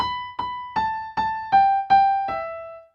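Solo piano playing legato without pedal: seven evenly spaced notes with bright attacks, each ringing into the next, the melody stepping gently downward and the last tone fading out, close and clear with no voices.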